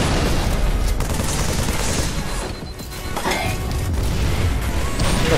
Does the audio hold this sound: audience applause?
no